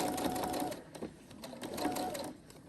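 A sewing machine stitches down the edge of a pillowcase, running in a steady, fairly quiet mechanical whir that swells and eases slightly, with no talking.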